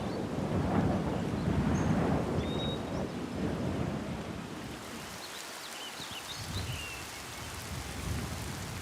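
Storm near a riverbank, with a steady rush of rain and gusting wind and a low rumble of thunder rolling through the first half before fading into the hiss of rainfall.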